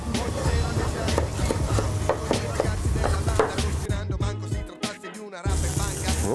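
Rapid, steady knife chopping of garlic on a board for pasta in a home kitchen, dense rhythmic strikes close up with a brief pause near the end, voices faintly in the background.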